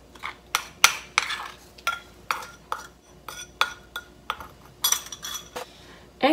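Seaweed salad is tossed with vinegar dressing in a bowl, producing a string of rhythmic clinks and scrapes of utensils against the dish, close and fairly loud, with no talking.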